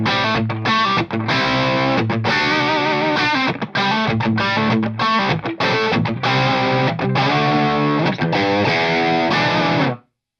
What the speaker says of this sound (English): let's hear the Tube Screamer into the Victory.